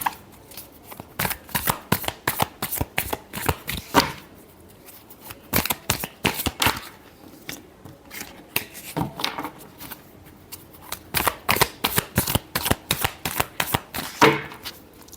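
A deck of tarot cards is shuffled by hand in repeated bursts of quick riffling flicks, separated by brief pauses, close and crisp with no talking.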